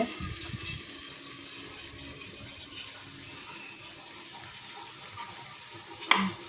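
Raw banana vegetable curry simmers in a pan, a faint steady bubbling sizzle with a short stir at the start and a brief clink near the end.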